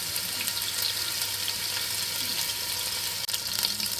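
Beef pieces searing in a hot pan for stew, browned in batches, giving a steady close sizzle and crackle throughout, with one brief dip near the end and no talk.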